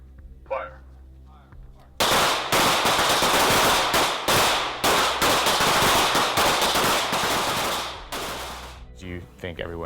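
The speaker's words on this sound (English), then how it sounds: "Draw your pistol. This will be 6 rounds only, slow fire." Pistol fire on a range, a drill of six rounds of slow fire: sharp, loud reports cracking out in an irregular string across several seconds, with echoing gunfire from other shooters nearby.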